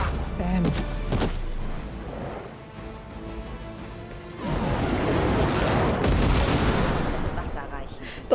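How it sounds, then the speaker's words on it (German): Bursts of explosions and crashing impacts from Marvel Midnight Suns combat, a sharp blast early on and a long loud rumbling burst in the second half, with a voice talking over parts of it. "Das ist auf jeden Fall neu mit dem Explodieren"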